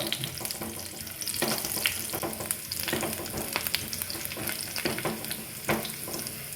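Cashews crackle and sizzle as they fry lightly in a pan, with frequent light scraping and tapping as they are stirred.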